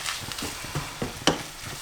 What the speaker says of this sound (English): Nothing nicer than onions frying.